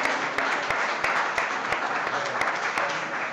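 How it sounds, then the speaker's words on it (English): Applause from an audience at a chef competition event, steady dense clapping across the whole stretch with a few sharper individual claps standing out, fairly close and continuous. "please give Rochelle a big round of applause"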